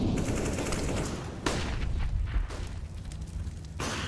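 HE grenade blasts and gunfire rumble through a Counter-Strike match, with a sharp explosive boom, a second heavy burst and another loud crack near the end over a dense, noisy background of rattling shots.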